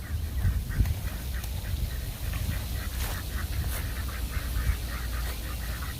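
Ducks quack and honk repeatedly in a rhythmic series around a park fountain, with steady water splashing and rushing underneath, the calls moderately close and clear.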